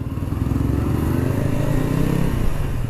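A 125cc motorcycle sets off on a ride through a village near Plougoumelen. Its engine gives a close, steady, buzzing drone that holds for a few seconds, with no one speaking.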